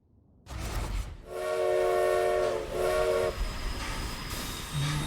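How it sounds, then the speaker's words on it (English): Train sounds from the Forza Horizon 4 racing game, a loud rumbling rail passage with a sustained horn-like tone across the middle seconds, steady and close throughout. "So we're gonna be racing the train"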